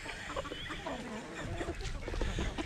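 Chickens and a young rooster cluck steadily nearby while being fed berries and corn, the soft busy clucking continuing throughout.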